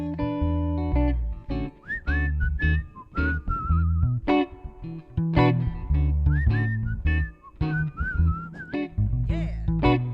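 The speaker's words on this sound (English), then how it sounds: "One more whistle." A person whistles a melodic tune at a live music show with friends and a guest performer, the whistled phrases clear and prominent over a band accompaniment.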